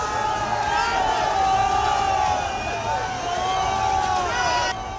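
A protest crowd gathers outside the Sanjauli mosque in Shimla, producing a loud, continuous roar of shouting and chanting voices that rises and falls without a break across the whole stretch.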